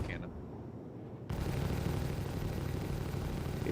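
Spaceship guns firing in the Star Citizen video game during a mining session, two of four guns active: a dense, continuous roar of weapon fire that starts abruptly and holds steady at a loud level.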